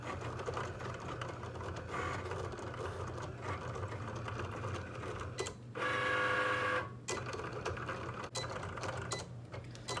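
Mechanical whirring and buzzing of a Cricut cutting machine doing a print-and-cut on sticker paper, with a brief louder grinding burst partway through, close and continuous.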